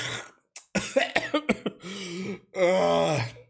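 A voice imitates a father hawking and clearing his throat first thing in the morning: a series of harsh coughing rasps and throaty hacks, then a drawn-out groaning rumble, loud and close.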